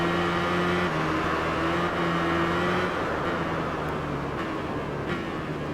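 An Aprilia motorcycle engine of under 140 horsepower in the Tourist Trophy racing game holds a steady mid-pitched drone, shifting pitch slightly around the one- and three-second marks, moderately loud and continuous with no talking.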